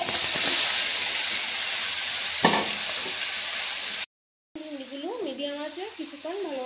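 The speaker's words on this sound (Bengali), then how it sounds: "এবার আমি ভিন্ডিগুলো ভাজতে দিয়ে দেবো।" Okra coated in gram flour hits hot oil in a frying pan, a loud, dense, steady sizzle up close. It cuts off briefly, then a quieter hiss returns under a wavering voice.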